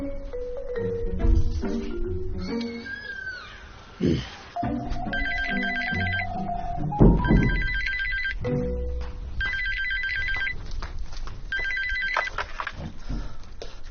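Telephone ringtone in a home, a repeated electronic melody sounding in regular bursts over several seconds, with music and brief voices underneath.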